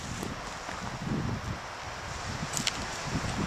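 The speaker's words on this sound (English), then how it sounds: "Where it's very windy." Strong wind blowing outdoors at a tipi campsite, a steady rushing roar with gusty swells and buffeting against the microphone, with no voices.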